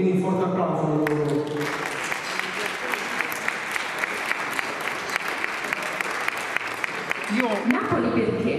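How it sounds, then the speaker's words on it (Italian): An audience breaks into applause at an evening event, a brief spoken voice giving way to steady, dense clapping with sharp individual claps standing out, before a voice returns near the end. "quindi un forte applauso a loro"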